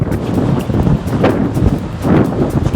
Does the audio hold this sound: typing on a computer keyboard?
no